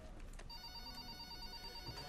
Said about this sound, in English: Hold on, the phone's ringing.